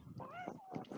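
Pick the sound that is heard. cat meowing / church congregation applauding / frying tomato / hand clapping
cat meowing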